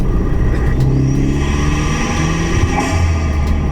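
A 2017 Ford Fiesta ST fitted with a 2JR intake cruises under light throttle, its steady engine rumble and low drone filling the cabin with a faint turbo whistle on top, loud and continuous with no one talking.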